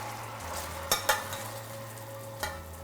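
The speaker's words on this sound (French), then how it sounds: "on ajoute un peu de beurre. Et on chauffe bien fort pour que le beurre se mélange bien." Butter stirred into a thick, syrupy port reduction over high heat in a hot pan, giving a steady soft sizzle with a few sharp clinks of a utensil against the pan.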